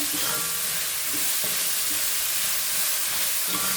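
Food fries in a pan with a loud, continuous hiss and crackle close up, broken by occasional stirring knocks, with no one talking.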